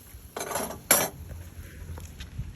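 Metal utensils scrape and clink against a pan while roasting vegetables for slata mechouiya are turned, with two short, bright clatters followed by quieter scraping.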